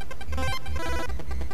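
Chiptune telephone ringing from the NES game Zooming Secretary, a repeating electronic ring tone over a bright bleepy game soundtrack, steady and loud throughout the short burst.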